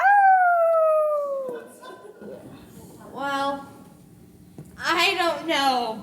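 Long, sweeping dog-like howls in a stage musical, sliding downward in pitch, loud and close, then repeated in shorter bursts after a quiet stretch with faint background noise.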